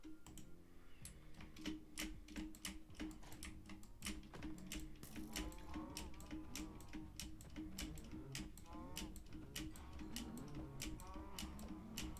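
Many cows moo in a crowded Minecraft pen, overlapping low calls under a dense layer of game music and rapid clicking from play.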